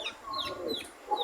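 Egyptian Fayoumi hens and a rooster cluck softly in a brief burst of overlapping, close-by calls from a small backyard flock.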